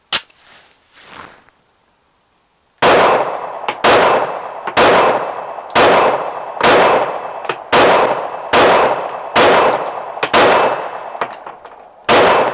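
Glock 21 pistol firing handloaded rounds made with Bullseye powder at an outdoor range: one early shot, a pause, then about ten loud, sharp reports in a steady rhythm, each ringing off briefly.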